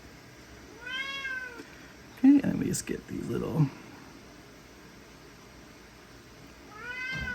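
A house cat meows twice, once near the start and again at the end, each a clear rising-falling call heard at moderate distance, with a person talking briefly in between.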